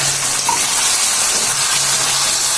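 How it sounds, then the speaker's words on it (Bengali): Shrimp dal with dried fish, stirred in a pan right after the lid comes off, gives a continuous loud sizzle and bubbling hiss. No one speaks. "এখন ভালো করে নাড়াচাড়া দিবে।"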